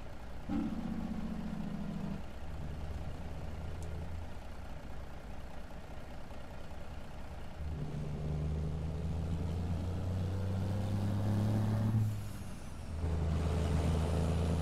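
A truck engine in American Truck Simulator burbles steadily nearby, its low rumble shifting pitch as it works, with a brief hissing burst like an air brake partway through.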